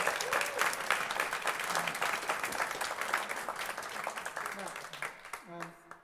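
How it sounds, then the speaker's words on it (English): Audience applause at a brass band club concert fills the room as a dense patter of many clapping hands. It fades toward the end, when a voice begins to speak. "we'll give another round of applause"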